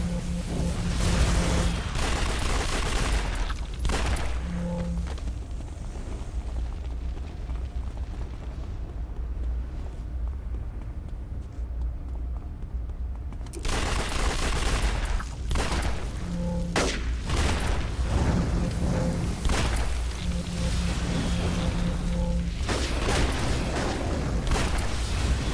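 Incendiary ammunition fired in a City of Heroes battle, sustained crackling bursts and booming blasts over a constant roar, loud and dense, with a brief lull midway before the barrage resumes.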